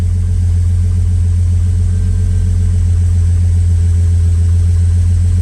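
Engines of a 1986 Ford F-150 idle loudly and steadily on a frigid day, with a deep, pulsing rumble and a constant low throb, without any talking.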